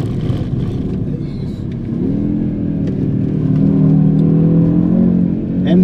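An Audi RS 6 wagon with a 600 hp engine is driven hard around a winding track, its engine note droning and rising steadily in a held gear, loud and close inside the car, with a voice talking over it.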